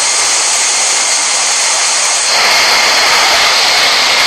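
Airliner jet engines roaring loud and steady through a takeoff run in Real Flight Simulator, the broadband rush shifting and swelling partway through as thrust builds.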